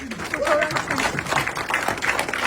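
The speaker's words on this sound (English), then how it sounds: "Applaud for her." An audience applauds at a YouTube creators event: dense, continuous clapping that fills the whole stretch, with voices mixed into the crowd.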